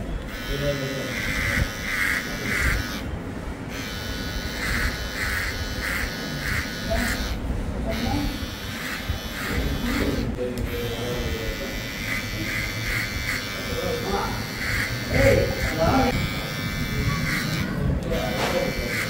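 An electric clipper buzzes steadily through strong, rough hair during a haircut, a continuous close whir that shifts in pitch as it moves, with someone talking over it throughout.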